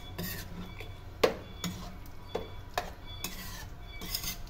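A utensil scrapes and clinks against a pot while laing is stirred, several distinct knocks and scrapes at an uneven rhythm over a faint background hum.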